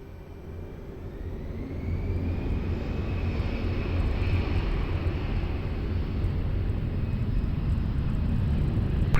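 Jet airliner taking off at Lisbon Airport, a loud continuous engine roar that builds and holds steady with a rising whine, heard close and alone without talk.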